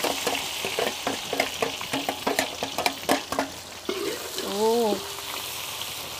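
Ingredients for duck soup stir-fry in a pan, with steady sizzling and rhythmic scraping stirs up close, followed by a short spoken exclamation and a brief voice sound over the frying.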